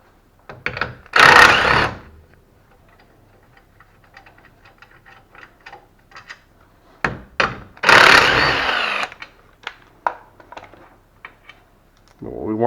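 Impact wrench taking off 15 mm brake caliper bolts during a forward A-arm install, two loud sustained rattling bursts separated by quieter clanks and handling noises nearby.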